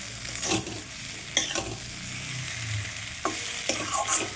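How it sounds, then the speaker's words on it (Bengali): Spice paste of cumin, ginger, chili and onion with tomato fries in oil for boal fish curry, hissing steadily up close while a spoon scrapes and stirs the pan in several sharp strokes. "মশলাটা আমার ভাজা ভাজা হয়ে গেছে"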